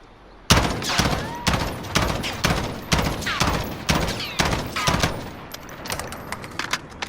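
M16A4 fire in Call of Duty Modern Warfare, rapid loud bursts of gunshots in an even, close rhythm that continues for several seconds, with no talking.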